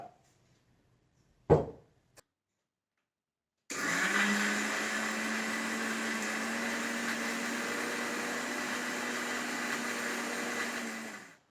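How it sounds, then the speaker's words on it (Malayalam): After a few quiet knocks, a mixer grinder starts up and whirs loud and steady for about eight seconds, grinding a yogurt mixture for Kerala-style raw mango kichadi, then cuts off. "തൈരും കൂടി ഒഴിച്ചു കൊടുത്തിട്ട് നമുക്കിത് ഇങ്ങോട്ട് അരച്ചെടുക്കാം"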